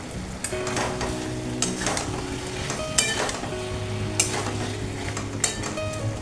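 Tomato and tomato paste fry in a pan of light chicken curry, a steady soft sizzle running throughout with repeated clinks and scrapes of a spoon stirring against the pan.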